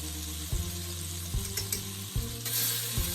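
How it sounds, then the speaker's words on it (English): Butter melting and sizzling in an overly hot pan while a spoon stirs it with about five scraping strokes, each a short rasp over a steady sizzle, loud and close. "I'm just going to give this a quick stir."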